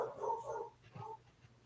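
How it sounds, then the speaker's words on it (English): A dog barks and whimpers faintly in the background, a couple of short, muffled calls at a distance. "The dogs are barking here."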